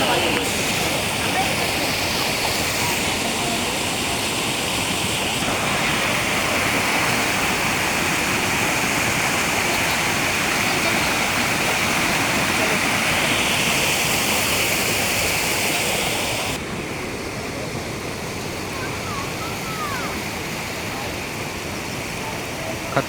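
A swollen waterfall in Badlapur roars in a dense, continuous wash of falling water, loud and unbroken, easing slightly in intensity toward the end.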